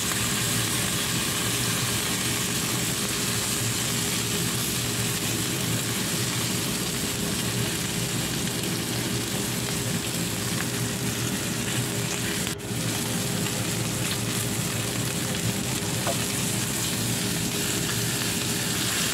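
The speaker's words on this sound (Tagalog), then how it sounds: "At maglalagay ako ng kaprasong butter." Butter sizzles and fries in a pan with steak, a dense, continuous, loud hiss that holds steady with barely any change, one brief tick midway, no voices.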